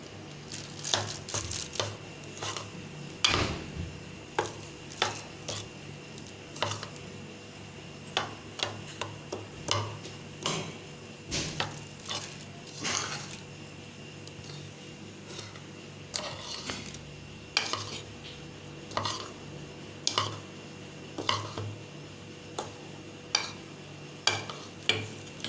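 Chicken pieces being mixed by hand or spoon with a tablespoon of red chili powder and spices for spicy fried chicken, a run of soft, repeated wet stirring and squishing strokes, close and quiet.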